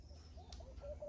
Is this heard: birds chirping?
yes